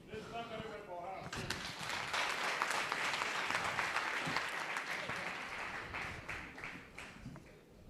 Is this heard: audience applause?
yes